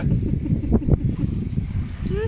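A sailboat's propeller turns steadily while the yacht sails at about six to eight knots in nine knots of wind on the way to Nassau, Bahamas. It makes a continuous low rumble under rushing wind and water, with brief voice sounds.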